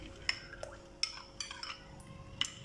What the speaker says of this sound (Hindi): इसके अंदर अच्छी तरह मिक्स करें